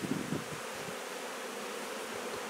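Honey bees buzzing around an open hive in a chemical-free apiary, a dense, steady hum of many wings close by, with a couple of louder passes at the start.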